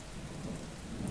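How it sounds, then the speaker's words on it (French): Rain and rumbling thunder from an audiobook sound effect form a dense, steady wash of noise with a low roll beneath it over about a second, with no voice. "un lointain tonnerre roula longuement et une large goutte d'eau frappa son front"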